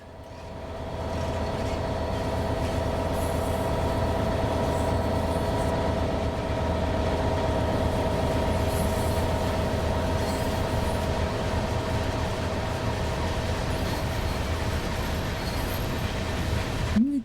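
In the Train Sim World game, a train passes over track points with a steady, loud rumbling roll and low mechanical hum that holds evenly throughout, with no distinct clicks standing out.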